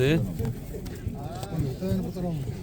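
Pigeons coo at a pigeon market in Radom, with soft repeated coos mixed into a steady crowd murmur and nearby voices talking.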